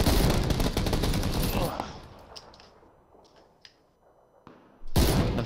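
Rapid automatic fire from players in the battle royale shooter PUBG opens loud and close, then gives way to scattered fainter shots and thuds before another loud burst erupts at the end.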